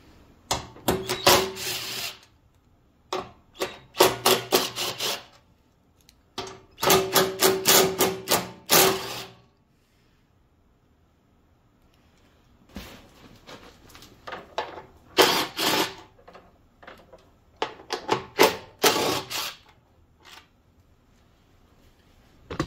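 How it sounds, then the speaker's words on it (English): Cover bolts are removed from a Cub Cadet snow thrower with a power tool, several bursts of rapid ratcheting buzz separated by short pauses, close and fairly loud with no talking. "Now, we need to remove the cover bolts."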